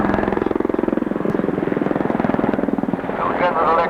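A Black Hawk helicopter with General Electric T700 engines flies past at the 1990 Farnborough Air Show. Its steady, rapid rotor-blade thudding is loud and close, and the pitch shifts near the end as it passes.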